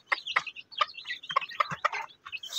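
Steady, rhythmic clucking from a mother hen mixed with chicks' high peeps inside a brooder cage, close and clear with no talking.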